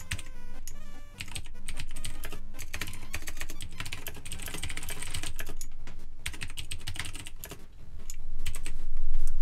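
Rapid typing on a computer keyboard clatters in quick, uneven bursts of close, crisp key clicks, with short pauses and a louder flurry near the end.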